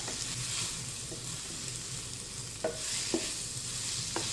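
Mushrooms and oil-packed sun-dried tomatoes sizzle steadily in a hot Magnifique 8-in-1 multicooker pot, with a few sharp utensil taps and scrapes near the end.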